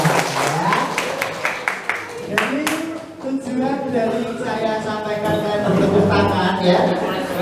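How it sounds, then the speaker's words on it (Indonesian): A classroom group in an economics lesson breaks into lively, close applause with a few distinct claps, then the clapping thins out under a voice that carries on talking over it. "Oke, kalau gitu tepuk tangan buat kita semua ya"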